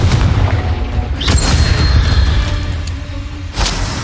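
Confringo blast spell in a Harry Potter video game: dense booming explosion with crackling bursts and a whoosh, loud and continuous across the clip, with a sharper impact near the end.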